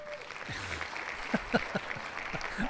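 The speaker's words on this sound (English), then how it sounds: "that's been our applause track since day one" Studio applause track playing on a St. Louis comic-book talk show, a steady bed of clapping with a few sharp whoops and shouts rising out of it, moderately loud and heard alone.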